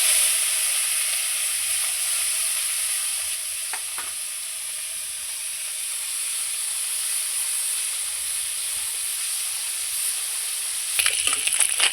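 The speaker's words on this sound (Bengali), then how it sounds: "আমার তেল খুব সুন্দর গরম হয়ে গেছে। এবার আমি মাছগুলো ছেড়ে দেবো।" Small dalka fish sizzle in hot oil in a wok, a steady loud hiss throughout with a couple of brief clatters, the last near the end.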